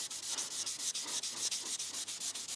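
Close, steady back-and-forth sanding of a car paint run with 1500-grit paper, fast even strokes in a continuous rhythm with no voices.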